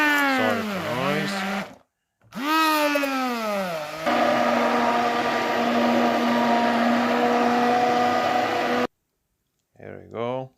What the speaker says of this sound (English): Add the milk to the banana, sugar and eggs. And beat with the blender.